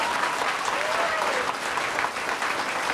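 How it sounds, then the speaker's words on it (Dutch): Theatre audience applauding, a dense, even wash of clapping that carries steadily from start to finish. "Applaus alsjeblieft, wat kan dat niet?"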